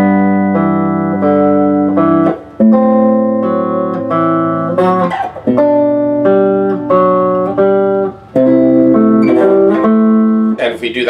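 Gibson VOS Melody Maker electric guitar played on the bass strings, sustained chords and moving voices ringing loud and clean in a steady sequence.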